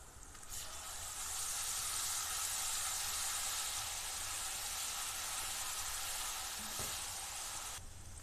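Ginger garlic paste sizzles hard in hot oil with fried onions for a Bengali katla fish kalia, a steady loud frying hiss lasting throughout.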